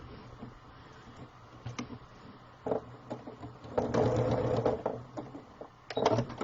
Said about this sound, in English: Sewing machine is pushing the camera